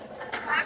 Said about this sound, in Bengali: এই যে আমার মেয়ে ধান দিচ্ছে কবুতরকে।